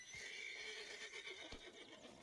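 A horse whinnies in Red Dead Redemption 2, with a brief neigh over steady game ambience and faint hoof-like clops; no talking.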